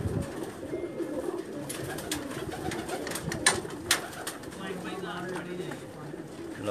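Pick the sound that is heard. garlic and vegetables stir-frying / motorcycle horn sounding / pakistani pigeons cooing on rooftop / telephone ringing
pakistani pigeons cooing on rooftop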